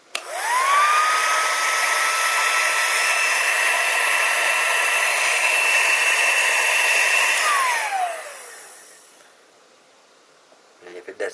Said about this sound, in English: I use a heat gun.